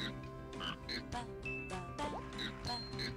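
Frogs croaking in the rhythm video game Rhythm Café: a string of quick, moderately loud cartoonish croaks bouncing in time over a tinkly musical backing.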